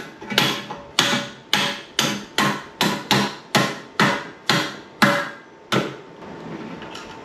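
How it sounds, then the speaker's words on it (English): Sharp hammer blows tapping the top triple clamp of a Fiido Q1 e-bike fork, about a dozen close, ringing metallic knocks in a quick, fairly even rhythm, each decaying briefly before the next, then quiet. "Grab the top triple. Give it a few love taps."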